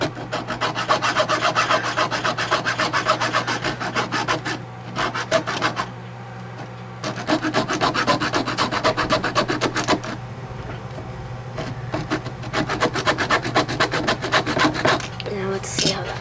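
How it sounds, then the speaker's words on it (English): A hacksaw cuts through wood while a duck call is being made, producing loud rhythmic rasping strokes in two long bursts separated by a short pause, with a low steady hum underneath. "Where's my hacksaw?"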